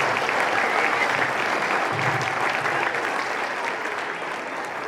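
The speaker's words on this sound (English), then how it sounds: "please give them a big round of applause" A school audience applauding fourth grade teachers and staff at an end-of-year event, a full, steady round of clapping from many people that fades slightly toward the end with no talk over it.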